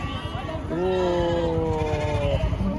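Lambs bleat loudly at a weekly sheep market, a long wavering cry close by, over a busy background of crowd babble and someone talking.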